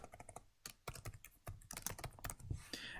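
Quick bursts of close, crisp keystrokes on a computer keyboard as a heading is typed, irregular clusters of clicks with brief pauses and no talking.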